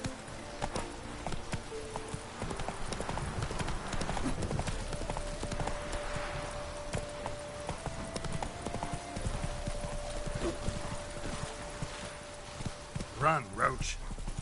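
Geralt's horse Roach galloping in The Witcher 3 video game during a chase, continuous rhythmic hoofbeats under game music and effects, with a sharp burst of sound near the end.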